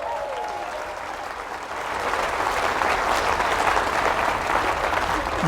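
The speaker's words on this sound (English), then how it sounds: "Give them a round of applause" A comedy audience aboard the MSC Seaside cruise ship breaks into sustained applause, a dense steady wash of clapping that swells slightly louder midway and holds, with no talking over it.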